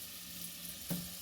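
Butter tempering sizzles in a pan, a faint steady frying hiss with one brief louder burst near the end as something is added, no talking.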